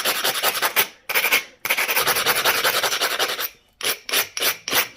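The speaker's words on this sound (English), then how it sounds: "I'm going to go ahead and bevel this point." A stone point is beveled by knapping, producing close, rasping scrapes in quick rhythmic bursts, grouped in runs separated by brief pauses.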